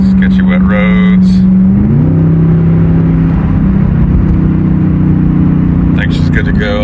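Chevrolet Corvette E-Ray cruising at about 70 mph on wet roads, loud steady engine drone and tire hiss with a shifting engine tone, someone speaking over it.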